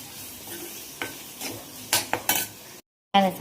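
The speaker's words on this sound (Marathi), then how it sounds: "आणि आता हे सगळं मी व्यवस्थित परतून घेते." Spices with ginger-garlic and coriander paste sauté in hot oil in a pan, a soft sizzle under several scraping stirs of a spoon, with a brief cut to silence before another clattering stir.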